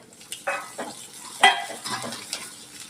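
Onions fry in a pan for Gujarati papad methi sabzi while a spoon stirs them, giving a few distinct scraping strokes against the pan over a soft, continuous sizzle, close by and with no talking.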